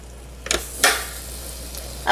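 Bacon sizzles in a waffle maker with a faint steady crackle, broken by two short bursts of louder hissing near the start and a fresh surge of sizzle at the end.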